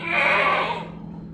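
A single short, close bleat from a pregnant goat at a livestock sale in Karachi rings out clearly and then fades away.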